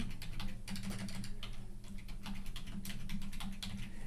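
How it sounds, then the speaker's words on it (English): Steady typing on a computer keyboard, a fast run of crisp clicking keystrokes that carries on without pause over a low background hum, close and clear with no talking. "and you can just start typing"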